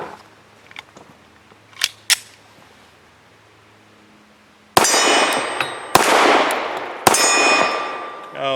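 Three loud pistol shots from a Tisas Regent firing Federal HST 124 grain hollow point rounds ring out about a second apart, each sharp crack trailing into a ringing tail, after a few quieter clicks and handling noises.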